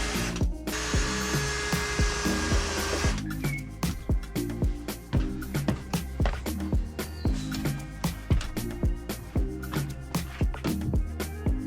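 A power drill whines steadily for a few seconds while fitting a camper van window, then gives way to a run of sharp, rhythmic hammering knocks and clatter, loud and close.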